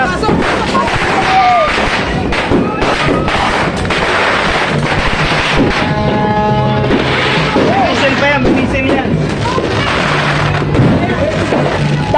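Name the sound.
fireworks exploding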